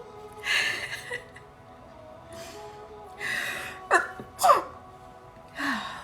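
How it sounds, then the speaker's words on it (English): Sneezes from a person sitting in a quiet room, heard as a few sharp bursts with breathy gasps and snorts around them, close to the microphone and spaced out over several seconds. "Okay, I tried not to like sneeze like super loud."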